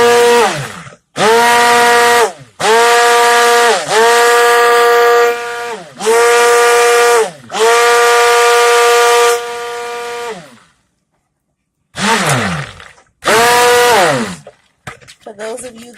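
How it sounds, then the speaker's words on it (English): An immersion blender whirs through liquid soap batter during cold process soap making, in several loud sustained bursts, each starting up and winding down, separated by short pauses. "For those of you that like listening to an immersion blender, here's some soap ASMR."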